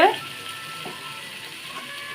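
Potato and papaya pieces coated in turmeric and salt fry in oil with a steady, even hiss after a brief louder burst at the start.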